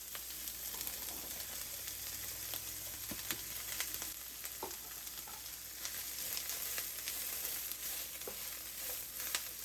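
Impossible Burger plant-based meat frying in a pan with chopped white onion and fennel, a steady close sizzle with scattered crackles and pops, plus occasional stirring scrapes, no voices.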